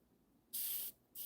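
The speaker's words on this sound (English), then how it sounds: "I have a slightly unhappy airbrush hose" An airbrush with a slightly faulty hose sprays paint in two short, loud hissing bursts separated by a brief pause, close up and with no talking.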